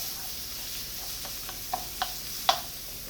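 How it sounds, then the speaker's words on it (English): Shallots and onions sizzle quietly in a pan with a faint steady hiss, while a few sharp clicks of a utensil sound close by. "Put your shallots in. Onions, add my onions."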